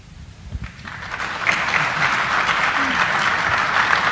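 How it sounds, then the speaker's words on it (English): A debate audience at a 2018 Connecticut Republican governor's debate breaks into applause that builds and swells into steady, dense clapping. "if we could just hold the applause to the end"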